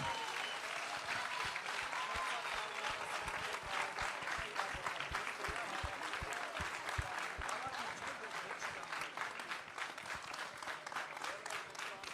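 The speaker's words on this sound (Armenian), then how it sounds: "Եկեք ևս մեկ անգամ բուռը ծափահարենք" A crowd at an awards ceremony claps in dense, sustained applause for about twelve seconds, with a voice talking over it.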